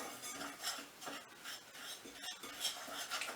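Cod pancake batter is stirred and beaten in a bowl, a steady run of close scraping, tapping strokes of a utensil against the bowl's sides, repeating rhythmically with no talking.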